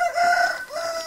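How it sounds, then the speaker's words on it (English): A rooster crows once, loud and close, its drawn-out call wavering and fading over about a second. "That rooster is being loud."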